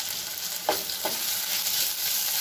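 Ground ginger, garlic and red chili frying with onions in a pan: a steady, bright sizzle fills the clip, with a couple of soft stirring scrapes near the start, close and moderately quiet.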